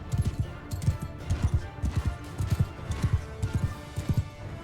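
Horse hooves galloping in the medieval battle game Mount & Blade II Bannerlord, a loud, close clip-clop rhythm of repeated hoofbeat clusters running steadily throughout with no talk.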